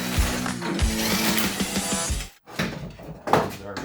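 A hand ratchet clicks rapidly and steadily close by, loosening the 13 mm bolts on the rear bar of an Audi A4 B6/B7 2.0T FSI during a timing belt job. It pauses briefly, then starts clicking again.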